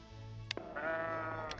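A single sheep in Capitalism Lab lets out one clear, close bleat lasting about a second, preceded by a short click, alone with no talk.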